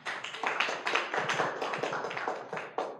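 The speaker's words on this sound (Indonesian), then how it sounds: "aplaus untuk ibu yang di sana" An audience at a meeting applauds a woman with a dense, even patter of many hands clapping for about three seconds, moderately loud, with a last brief burst near the end.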